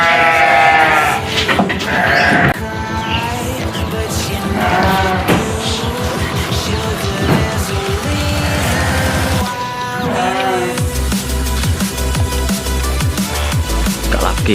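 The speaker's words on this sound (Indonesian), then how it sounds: "Galak kieu nya domba teh euy." Garut fighting sheep at a farm bleat loudly and repeatedly, close up, with harsh wavering cries over constant background noise and a low engine-like hum near the end.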